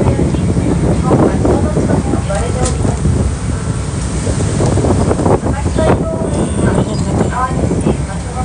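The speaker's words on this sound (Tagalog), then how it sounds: "Ang lakas ng hangin eh." Strong wind buffets the microphone near the water, where a black warship is moored nearby, producing a loud, continuous roaring rumble with gusty surges throughout and no clear speech over it.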